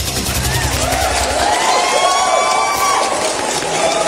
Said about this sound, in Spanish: Ese aplauso no es para mí, ese aplauso es para las mujeres.